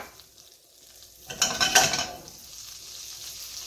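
Shrimp and mushroom marsala frying in a pan with a fresh splash of oil, a loud burst of sizzling and spatter that peaks briefly, then settles into a steady low crackle, with no talking.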